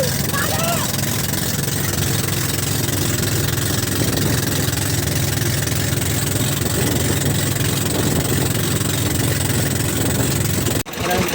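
A boat engine idles with a steady low chugging drone, loud and continuous, with faint background noise over the top.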